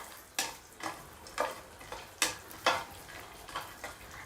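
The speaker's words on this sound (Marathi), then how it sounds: "आणि आता काजू बदाम मनुके हे छान असं आपल्याला फ्राय करून घ्यायचं आहे" Cashews, almonds and raisins frying in a pan on low flame for carrot halwa, a soft steady sizzle with regular stirring scrapes about every half second, close and alone.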